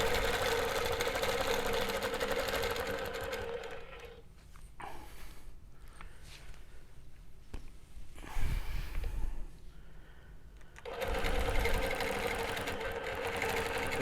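Longarm quilting machine doing ruler work, its motor whirring in a steady mechanical hum that drops away mid-way, with a few short bursts and pauses before stitching resumes at full, even volume.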